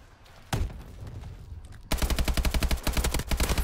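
Gunfire in Call of Duty: Advanced Warfare multiplayer on Xbox: a single loud shot, then a quiet spell, then a rapid automatic burst of evenly spaced shots, close and loud.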